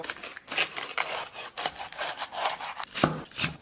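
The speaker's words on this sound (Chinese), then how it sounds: "咱们把香菇啊切成小丁丁" A knife dices shiitake mushrooms on a cutting board with quick, rhythmic close-up chops and scraping taps, fairly faint with no talk.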